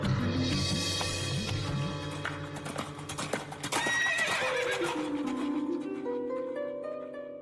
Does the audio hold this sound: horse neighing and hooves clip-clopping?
yes